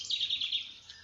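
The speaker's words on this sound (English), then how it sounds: "there's lots of birds, as you can hear, every kind of bird you could think of" Small backyard birds chirping and twittering in a quick, high, bright run of notes, near and clear over a faint low background hum, no one talking.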